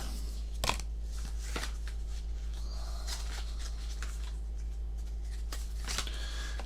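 Ikoria trading cards are shuffled up close, with brisk papery riffles and snaps in a few quick bursts over a low steady hum.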